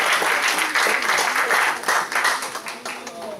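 A church congregation bursts into loud, sustained applause during a sermon, with many hands clapping together close by. Voices call out over the clapping throughout.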